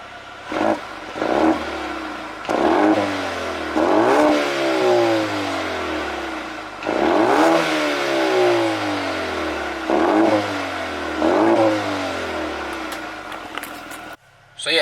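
A Mercedes-Benz A35 AMG engine revving repeatedly, several sharp rises in pitch with gear changes, loud and close as the car accelerates past.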